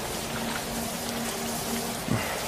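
Steady November rain hisses evenly throughout as a radio drama effect, with no talk and a brief soft thump near the end.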